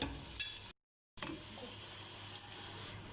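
Steady sizzle of onions frying in a pot, with occasional stirring clinks and a brief gap of silence; close and moderately quiet.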